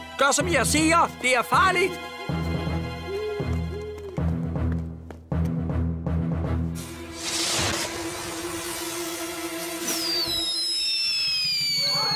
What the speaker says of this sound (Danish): Åh oh, nej, fyrværkerifesten.